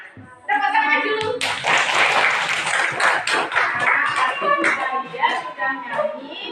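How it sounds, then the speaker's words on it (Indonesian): Schoolchildren in an Indonesian classroom break into clapping after a group chant, a lively burst of many small hands, close and uneven, mixed with voices and shuffling before fading. "Tepuk tangan dulu."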